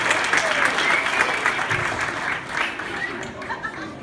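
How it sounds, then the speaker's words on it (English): Audience applause for a children's choir at a school holiday concert, a steady dense patter of many hands clapping that fades slightly toward the end, with faint murmuring in the room. "Please give a round of applause for the Silver Pond Singers."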